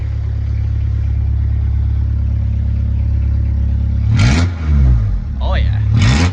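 Diesel XUD engine with a Lucas injection pump in a Citroën Xsara, Peugeot 306 or ZX, idling with a steady low rumble, then revved in two sharp bursts near the end as a voice speaks between them.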